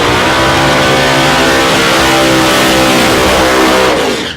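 A purple and white Chevy Lumina race car at the start line of a street racing challenge, its engine revving loud and close with a strong, continuous roar that cuts off abruptly at the end.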